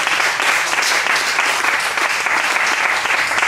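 Loud, dense applause from a large audience at a public talk, a continuous wash of many hands clapping at once, close and steady throughout with no voices on top.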